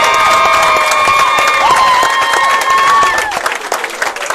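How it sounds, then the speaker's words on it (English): A crowd cheers and applauds at a bowling event's final night at Colerain Bowl, a loud continuous roar of voices and clapping that eases slightly toward the end. "I hope you guys could hear all that participation from the crowd."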